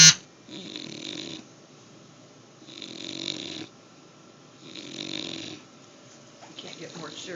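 A bulldog snores in three long, regular rasping breaths, close and loud, with a quiet pause between each.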